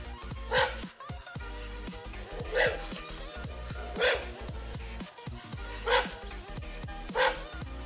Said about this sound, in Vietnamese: Con chó đang sủa.